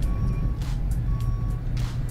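Reversing beeps of a truck hauling the last load of dry boards in the Lumberjack's Dynasty video game, a steady high tone pulsing under a continuous low engine rumble.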